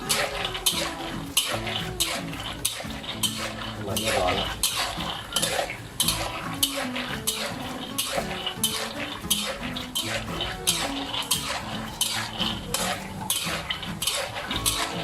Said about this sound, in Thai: เราจะ คนไปอย่างนี้นะครับ คนไปเรื่อยเพื่อที่จะ สลับถั่วที่อยู่ด้านบน นะครับไปอยู่ด้านล่าง